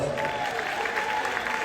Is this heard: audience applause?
yes